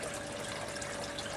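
Steady rushing, gushing water as a bell siphon drains a garden grow bed, a continuous broadband wash with a faint tonal hum, close and unbroken with no talk.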